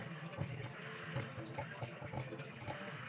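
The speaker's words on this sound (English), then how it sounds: "We are going to go ahead and add 50 grams of warm water." Warm water poured into a sourdough starter jar on day 11 of feeding, a steady, continuous splashing trickle lasting about three seconds with no talking.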